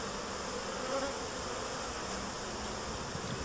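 A steady, dense buzzing hum of many honey bees settling into a newly installed Apimaye hive fills the air, constant and close with no pauses, over a broad wash of noise.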